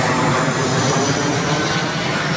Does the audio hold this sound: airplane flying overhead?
yes